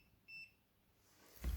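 A multimeter in continuity mode, used while probing an Acer Aspire V3-331 laptop motherboard, gives one short, faint high beep, followed by a soft thump.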